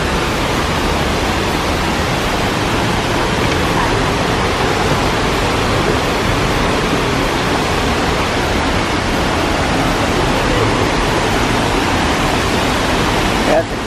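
Mulungu waterfall in Bonito, Brazil, pours with a loud, steady, unbroken roar of rushing water that fills the whole stretch without pause.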